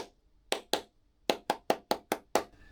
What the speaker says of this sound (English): They're asking you to clap the beat.